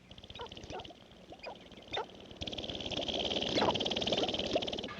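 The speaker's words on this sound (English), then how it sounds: "The ancestral dancing ground of the sharp-tailed grouse vibrates with the sound of courting males." Male sharp-tailed grouse on a dancing ground give clucking, cooing and popping courting calls scattered over a steady background hum, growing busier and louder toward the end.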